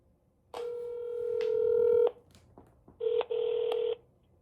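Phone call to McDonald's being dialed: a sequence of loud touch-tone beeps, one long tone followed by a couple of shorter ones, close and clear with no speech.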